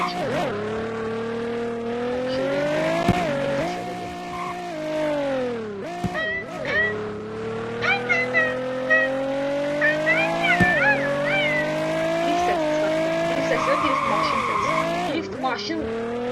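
Race cars in the Roblox game Vehicle Legends drifting, with continuous high engine whine and repeated loud tire squeals and skids that rise and fall across the run.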